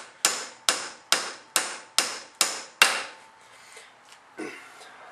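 Hammer blows drive a bearing onto the shaft of a commercial mower, seven sharp metallic strikes in a steady rhythm, close and loud, each ringing briefly, followed by a few softer clinks and handling noises.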